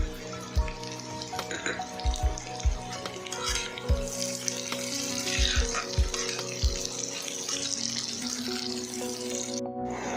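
Curry leaves crackle and sizzle as they hit hot oil, a steady broadband frying hiss broken by several soft low thumps in the first seven seconds.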